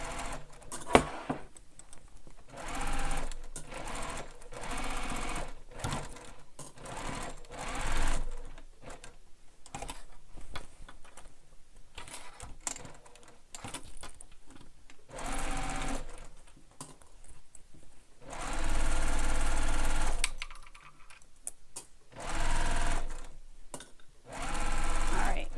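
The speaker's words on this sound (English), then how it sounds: "So we're going to sew up the side, across the top here, and down the other side" A sewing machine stitches the side seam of a handmade bag, running in repeated bursts of steady whirring broken by pauses, with a person talking in between runs.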